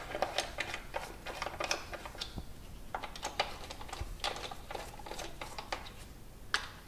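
Socket wrench clicking as it runs down the ignition coil bolts on a Dodge Neon engine, a steady series of close, sharp ratcheting ticks with no talking.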